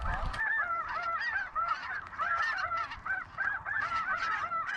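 A flock of about seven geese honking on a hunt in Alberta, many overlapping calls in a continuous clamor, fairly close and clear with no talking.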